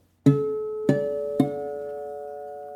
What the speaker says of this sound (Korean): 어쿠스틱 기타의 7플랫에서 나는 소리도 한번 들려드릴게요